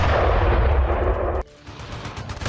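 Dense, loud battlefield gunfire and artillery during an attack on a Russian convoy in Donetsk, a continuous rumbling barrage that cuts off abruptly partway through, leaving a quieter, noisy rumble.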